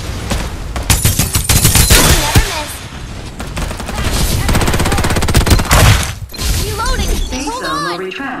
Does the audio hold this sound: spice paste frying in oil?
no